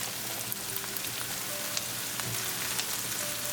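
Chopped onions frying in a pan over a high flame give a steady, close, crackling sizzle like light rain, continuous and even, with no talking.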